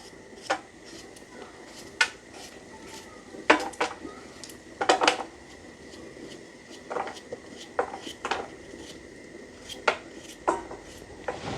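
Fresh vegetables and carrot being sliced thinly with a knife for rice noodles in a village kitchen, heard as a series of sharp, irregular knocks on a board mixed with clinks of utensils, fairly close with pauses between bursts.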